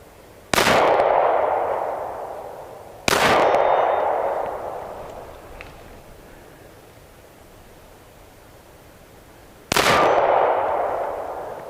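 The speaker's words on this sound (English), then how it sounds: "What am I shooting? Federal 230 grain full metal jackets with aluminum case." Three single shots from a Glock 30SF pistol firing Federal 230 grain full metal jacket .45 ACP rounds with aluminum cases, sharp and loud outdoors, each crack trailing a long echo that fades into quiet gaps between shots.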